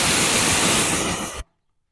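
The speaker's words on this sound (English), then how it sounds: "let me rinse off my hands" Water runs steadily from a tap while hands are rinsed, a loud broadband rush that stops abruptly after about a second and a half, leaving silence.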